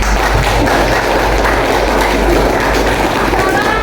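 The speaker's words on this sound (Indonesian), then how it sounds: "aplaus buat kelompok 1" Classroom audience claps for a student presentation group after a talk on Islamic banking, a dense burst of applause at close range running steadily for a few seconds.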